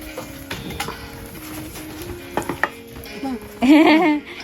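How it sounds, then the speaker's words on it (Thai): A spoon stirs food in a cooking pot set on the heat, scraping and clinking in short irregular strokes against a faint sizzle, ending with a louder burst of frying or bubbling. "พอตั้งหม้อขึ้นแล้วใช่ไหมคะก็ต้องคน ก่อนหนึ่งรอบค่ะ"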